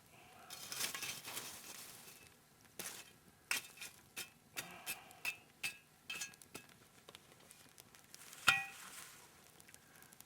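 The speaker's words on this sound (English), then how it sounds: "So first we just got to drag a few coals out of the fire." Campfire coals being dragged out of the fire for cooking with a jaffle iron, heard as a series of close, sharp scraping and clattering knocks with soft crackle in between.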